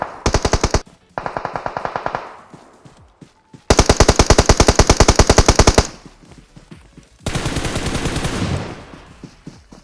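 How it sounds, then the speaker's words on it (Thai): Automatic weapon fire in the battle royale game PUBG Mobile: three loud, close bursts of rapid shots separated by short pauses, the last one rougher and denser. "ข้างหน้า มีคนยิงกัน"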